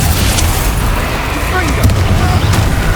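Confringo and Bombarda blasting spells in the Hogwarts Legacy video game erupting in loud continuous booming explosions over dense rumbling game combat.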